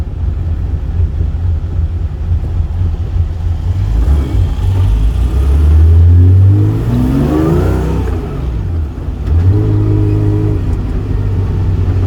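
A car engine runs steadily, then revs up in a loud rising sweep around the middle, dips briefly and settles back to a lower drone, heard close from inside the vehicle.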